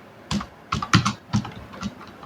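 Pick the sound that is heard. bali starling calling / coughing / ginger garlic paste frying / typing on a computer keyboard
typing on a computer keyboard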